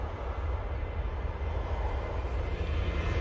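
A Ryanair jet taxis out at Manchester Airport, its engines a steady, broad rumble that holds at an even level throughout without any talking.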